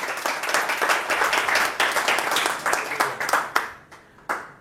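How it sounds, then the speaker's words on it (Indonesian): A church congregation at a Christian worship service claps together in a fast, steady rhythm. The many hands sound loud and full at first, then thin out into a few scattered final claps. "Berikan sorak-sorai buat Tuhan."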